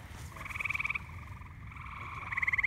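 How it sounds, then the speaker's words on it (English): A green frog calls at a pond edge, close and clear, giving two bursts of rapid pulsing trills separated by a short pause over a low background murmur. "See the frog as if it's approaching?"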